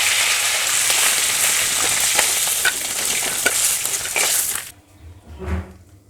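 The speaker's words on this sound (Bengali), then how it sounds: "আমি যে ফোড়নে দিলাম, শুকনো লঙ্কাটাকে আমি 2 টুকরো করে দিলাম" Halved dried red chillies and bay leaf are dropped into hot oil as tempering for a Bengali katla fish-head curry with mankochu, giving a loud, crackling sizzle for about five seconds. It then cuts out, leaving a brief softer sound.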